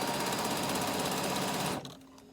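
A sewing machine stitches a quarter-inch seam on a bag, running as a fast, even whirring hum at close range for nearly two seconds before it stops and the room goes quiet.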